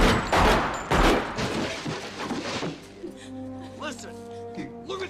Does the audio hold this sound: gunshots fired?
yes